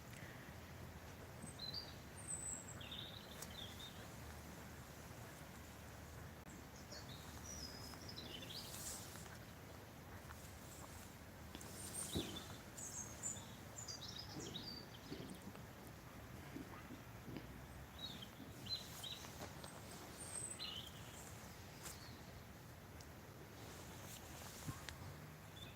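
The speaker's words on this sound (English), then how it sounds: "just listen to the birds." Birds call and chirp outdoors in scattered short bursts, fairly faint and at a distance, over a soft bed of ambient noise with possible insect buzz and no talking.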